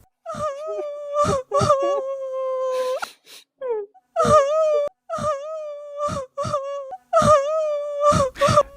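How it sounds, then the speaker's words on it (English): Drawn-out wailing cries repeat several times in long, tremulous moans separated by short gasping breaks, loud and close. "that was the sound of weeping"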